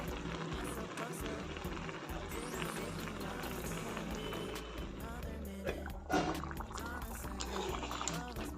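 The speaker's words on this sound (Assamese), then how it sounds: "এয়া উতল আহিছে।" Pot of red lentils and ridge gourd bubbling at a boil, a steady, quiet wash of simmering noise throughout with a soft knock partway through.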